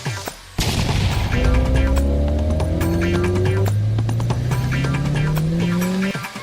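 Cartoon race car engine revving up in rising pitch with squealing tires, loud and continuous for several seconds after a brief pause, with smaller whooshes and pops layered in.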